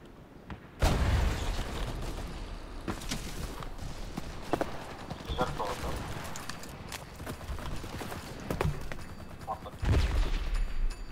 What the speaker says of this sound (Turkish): Yine mi patlatıyorlar?